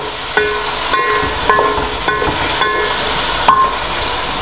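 A spoon stirs whole garam masala and salt through a pot of chicken Afghani pilao with tomatoes, making loud, regular metallic scrapes and clinks against the pot over a constant bubbling sizzle.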